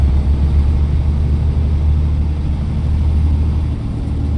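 A school bus engine revs and holds a steady low rumble while rebuilding lost air brake pressure during an inspection, heard up close and continuous with no talk.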